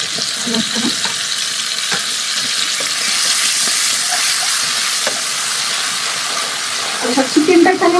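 Chicken frying in oil with onion paste and spices, a loud, continuous hiss and sizzle close up, with spoon scrapes and stirring clatter in the last second or so.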